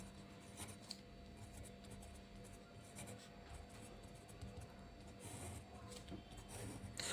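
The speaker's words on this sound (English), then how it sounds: "So first I am writing the new values." Pen or marker scratching across a surface while working through Floyd algorithm values by hand, a soft continuous scraping with faint bursts over a steady low background hum, no talking.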